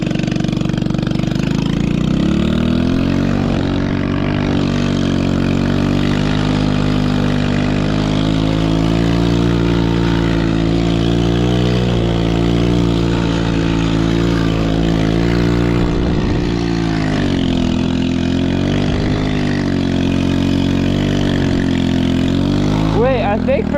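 A 110cc ATV engine drones steadily and loudly as it drifts through a blinding snowstorm, its pitch rising and falling with the throttle. Someone talks over the engine throughout.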